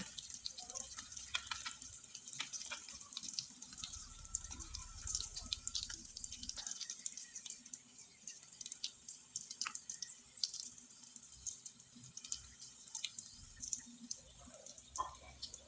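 Pitha cakes fry in oil on low heat, making a continuous faint crackling sizzle with scattered small pops throughout and no talking.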